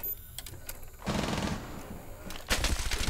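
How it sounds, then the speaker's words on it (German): Bursts of automatic gunfire in a ranked Rainbow Six Siege match, with rapid rattling volleys and single shots that grow louder and denser near the end. "Wo kommen die Schüsse her?"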